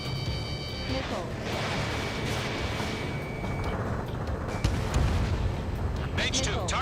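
Missiles launching and exploding in the video game Ace Combat 7, a dense continuous roar of rumbling blasts and whooshes with bright bursts near the end, mixed with radio chatter.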